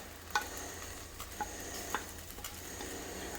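Shallots and garlic sizzle in melted butter in a pot as a spoon stirs them, with a steady soft frying hiss broken by a few light scrapes and clinks against the pot.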